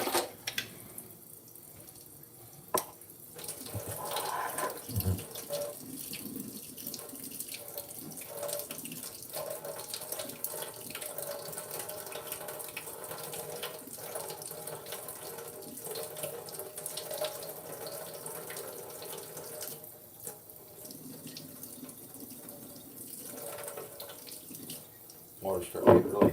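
Hot water runs steadily from a kitchen tap into a sink, a continuous close splashing stream with slight shifts in flow and a few clunks near the end.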